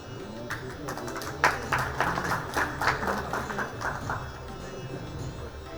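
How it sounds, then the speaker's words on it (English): An audience claps at an analytics and knowledge session, the applause swelling into a dense burst and then trailing off into a few scattered claps. "A huge round of applause, everyone"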